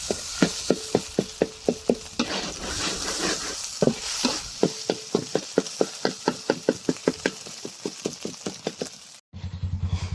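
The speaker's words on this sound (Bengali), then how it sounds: "আমরা হাঙ্গি বালকের ভিডিওর জন্য নুডলস রান্না করতেছি ডিম দিয়ে" Noodles with egg frying in a pan, a steady sizzle under a long run of regular sharp knocks and scrapes as a utensil stirs against the pan, ending abruptly in a brief different sound.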